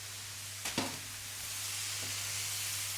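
Beef mince frying in a pan gives a steady sizzle, with a brief scrape of stirring near the start and a fainter scrape later, all against a constant low hum.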